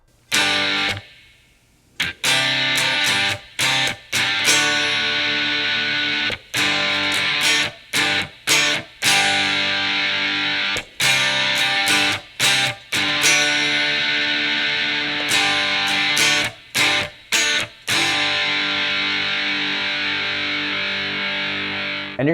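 Heavily distorted electric guitar plays the verse of a song, loud, sustained chords broken by short rhythmic stops, with no other instruments or voices.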